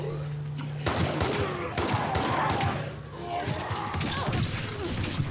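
Bursts of gunfire ring out in a tense fight in the video game The Last of Us Part 2, with repeated loud shots and crashes over a low background, while a player talks.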